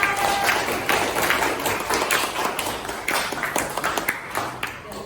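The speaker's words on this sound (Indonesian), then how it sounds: "terima kasih, tepuk tangan untuk kita semuanya" A classroom group claps for everyone after a teacher's read-aloud story, a dense burst of applause that thins into scattered claps over several seconds.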